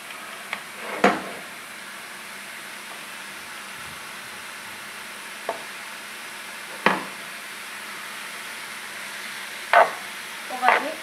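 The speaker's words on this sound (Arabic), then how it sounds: "البصله هي كما كتشوفوا كتشحر" Onion browns in oil in a frying pan before chicken is added, with a soft, steady sizzle and a handful of sharp knocks and scrapes from a stirring utensil.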